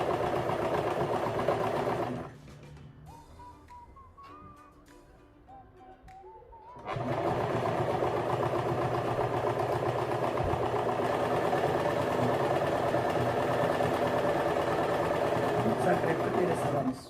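Sewing machine stitches a dress seam, whirring loud and continuous for most of the clip after a short pause near the start, with someone speaking over it.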